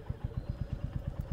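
Thumping beat of a 2025 Royal Enfield Bullet 350 single-cylinder engine at low revs, evenly spaced deep pulses in quick rhythm, close and moderately loud, no voices.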